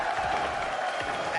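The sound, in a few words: arena crowd cheering and clapping at Rocket League championship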